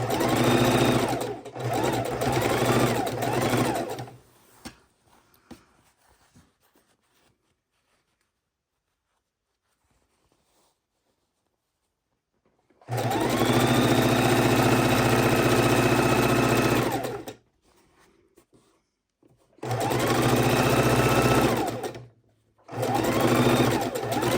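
A sewing machine stitching borders onto a pastel house quilt, running in loud close bursts of steady whirring stitching separated by long quiet gaps, with little or no talk.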